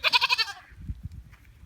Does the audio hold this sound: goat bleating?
yes